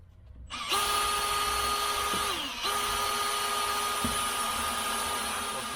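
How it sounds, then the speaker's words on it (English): A power drill whirs steadily at low speed after starting up, driving a spline adapter to turn the axle shafts of a Tuff Torq K46 transmission, with a brief dip and pitch change midway, then keeps running evenly. "So we have a spline adapter. We just put this on a drill,"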